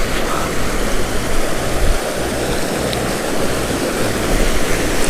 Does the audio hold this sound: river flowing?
yes